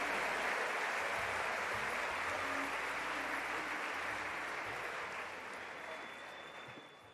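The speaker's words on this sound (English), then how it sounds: "Let us give one more big round of applause to all of our distinguished guests for joining this celebration" A large gathering at Mahant Swami Maharaj's birthday celebration applauds its distinguished guests. The clapping is broad and sustained, loud at first and then tapering gradually toward the end.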